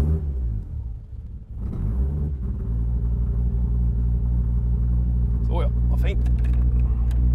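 A car engine running on E85 fuel idles with a steady, close rumble that settles in after a brief dip at startup, while someone talks over it.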